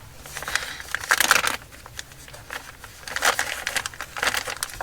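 A baby wipe is pulled from its plastic packet, producing two bursts of crisp crinkling and rustling up close, separated by a short quiet pause.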